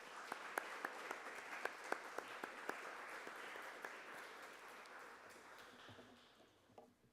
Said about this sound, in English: Let's give them a big round of applause for supporting our youth in the province.